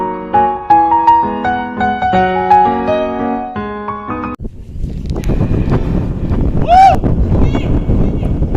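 Strong wind on a hill road in Yercaud roars and buffets against the microphone in a steady rush, following a stretch of music, with a faint voice briefly audible within the noise.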